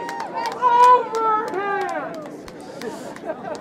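Spectators at a high school lacrosse game shout and call out from the stands, several overlapping raised voices over a background of crowd noise and occasional sharp knocks.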